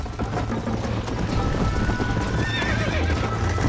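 Horse hooves clip-clopping at a gallop with a sharp neigh partway through, in the Western video game Red Dead, loud and close with continuous rhythmic hoofbeats.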